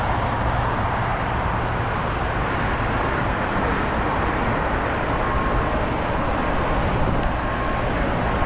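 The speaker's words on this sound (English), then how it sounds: "JetBlue Airlines Flight 723 came in from JFK. It's an Airbus A321." A JetBlue Airbus A321 airliner arriving at LAX from JFK, heard as a steady, loud broadband roar of jet engines that holds evenly throughout with no talk.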